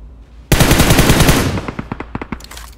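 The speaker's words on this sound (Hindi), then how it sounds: "मेरा टीममेट भी उसके ऊपर ऐसे बुलेट चला रहा है पागलों की तरह।" Rapid automatic gunfire from a teammate in a shooter video game opens with a sudden loud burst, then continues as a dense stream of shots that thins into separate, spaced bangs toward the end.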